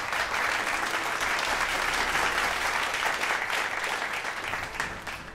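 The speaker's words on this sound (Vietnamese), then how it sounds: "Xin một tràng vỗ tay hoan nghênh" An award ceremony audience applauding, a full, even wash of clapping from many hands that holds strong and eases slightly at the very end.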